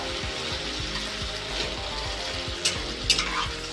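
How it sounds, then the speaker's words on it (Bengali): Flat beans (shim) fry in oil in a pan that had been kept covered, giving a steady, close sizzle with rhythmic scraping and stirring clicks and a couple of sharp metallic taps near the end. "আমি চাপা দিয়ে একটু ভাজছিলাম"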